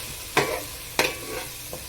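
A spice tempering in a pan sizzles with a steady faint hiss, broken by two sharp stirring scrapes and a softer third one, close up, with no voices.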